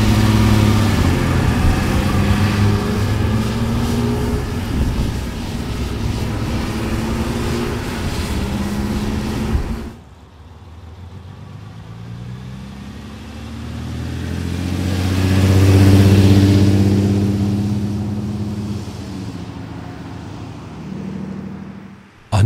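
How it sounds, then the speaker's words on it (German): Ferrari 330 GT 2+2 with a 4390 cc Colombo V12 and overhead camshafts, engine running loud and close, then a quieter idle that swells into a rising rev and falls back. "Angetrieben wird der 330 GT durch einen Colombo V12 Motor mit obenliegender Nockenwelle und einem Hubraum von 4390 Kubik."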